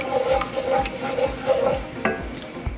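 Pizza dough ingredients are mixed in a bowl, giving repeated rhythmic scraping and stirring strokes at close range with no voices.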